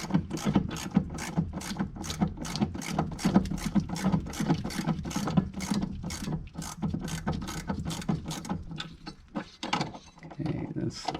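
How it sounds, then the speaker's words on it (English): A hand ratchet clicks in rapid, steady bursts while loosening bolts on a Sea-Doo jet pump, close and crisp, continuing for several seconds before slowing near the end. "we'll just start ratcheting those out"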